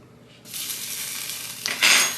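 A steak cooks in a hot cast iron pan: quiet at first, then a loud sizzle starts and swells, with a sharper burst near the end. No voices.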